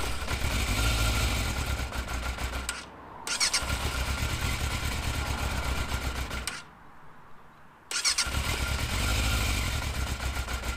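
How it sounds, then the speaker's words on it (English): A used motorcycle with the choke set is cranked and fires up, its engine running loud and close in rough bursts, cutting out twice into near silence before catching again. "this bike here is a little difficult to get started"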